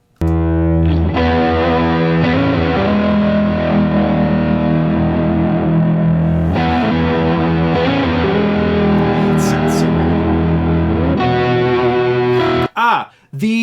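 Sustained, distorted electric guitar chords through a reverb pedal ring out loudly with a wide, washy reverb tail, continuing steadily before cutting off abruptly near the end.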